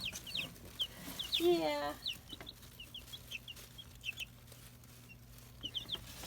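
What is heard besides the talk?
chickens clucking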